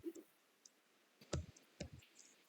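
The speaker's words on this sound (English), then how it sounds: "Hit enter here." A few sharp computer keyboard key presses, the Enter key among them, sound close and clear against a quiet background, with short gaps between the clicks.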